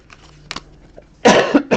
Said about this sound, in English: Hacking cough decided to join the break.